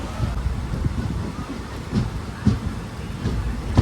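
A train pulls out of Gokarna Road station during the monsoon, giving a steady low rumble with faint rail clatter and wind buffeting the microphone, heard up close without talk.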